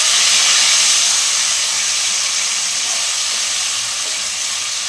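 Grated tomato hitting a hot pan, a loud, steady broadband sizzle and hiss that holds without a break and eases off slightly toward the end, close up with no talking.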